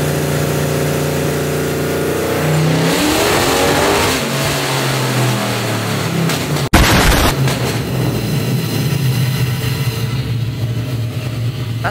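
A truck fitted with a 408 stroker engine on nitrous revs hard and loud up close. The engine note climbs, drops back, then surges again through a sharp burst midway before settling into a rough, steady roar.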